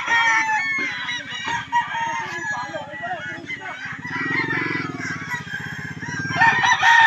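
Several gamecocks crow one after another at a local derby, loud and close, with overlapping calls and a lower, drawn-out crow in the middle.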